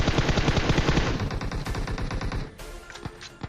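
Rapid automatic gunfire in the video game PUBG Mobile, played on an iPad mini 5, bursts of close, loud shots in quick rhythmic succession, followed by a few scattered single shots, with no talk.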